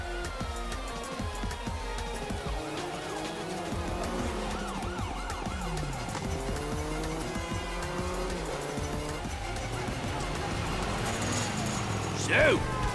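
A car driving through the GTA 5 video game world on the way to an abandoned motel: a continuous engine roar with shifting revs and tire squeals, a rising wail near the end.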